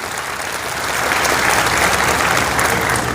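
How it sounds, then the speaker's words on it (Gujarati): A temple audience at a Gujarati religious discourse breaks into steady, dense applause that swells after the first second and carries on loudly to the end, with no speech over it. "જોરદાર ઉમરાને વધાવો તાળીઓના ગગડાટથી"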